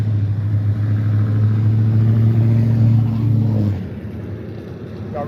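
A vehicle passes on the street close by, its engine drone loud and steady for a few seconds before it fades away, leaving quieter background noise.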